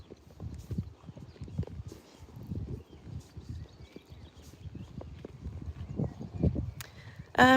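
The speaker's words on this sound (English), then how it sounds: "just enjoy the view and just being out on a nice hack with Hannes" Horse hooves walking in a steady, unhurried rhythm on firm ground during a hack, close by, with faint outdoor background and a brief rustle at the end.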